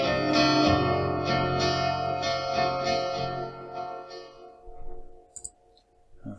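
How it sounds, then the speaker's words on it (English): An electric guitar played through an effects preset rings out in sustained, shimmering chords with echo and reverb, fading into a decaying tail and a few faint clicks near the end. "at the moment the guitar is going to sound like this"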